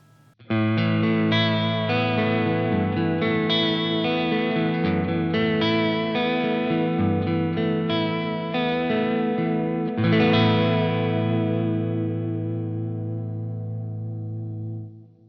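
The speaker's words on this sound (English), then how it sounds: "The vibrato setting, the vibrato mode on this pedal sounds really, really sweet." Sustained electric guitar chords through a modulation pedal in vibrato mode, with a wavering pitch wobble, ringing out loud and steady, a fresh strum near the middle, then slowly fading.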